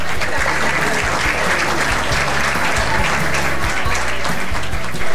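Loud, dense audience applause at a talk on ancient traditions and vegetarianism in Argentina, welcoming the speaker Dr. Gabriel Martino, sustained evenly throughout with no voices over it.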